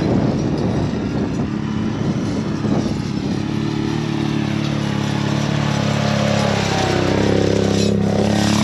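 Can-Am vehicle engine running steadily on a farm field, a moderate low rumbling drone with a slight rise in intensity near the end, no talking.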